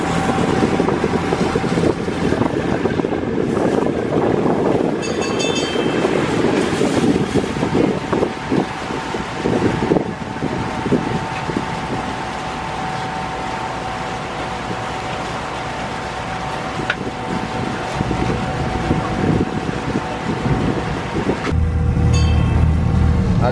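A passenger service boat on the Kuttanad backwaters of Kerala runs its engine with a steady, droning rumble, buffeted by wind noise across the microphone, dipping slightly midway and swelling again near the end.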